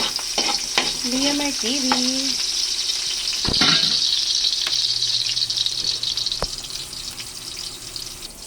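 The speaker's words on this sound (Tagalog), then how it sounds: "Susutay na natin yung ating bawang." Garlic being sautéed in a pan for a home-cooked sopas, a steady frying sizzle running throughout with utensil scrapes and a sharp clatter around the middle, while a voice briefly talks over it at the start.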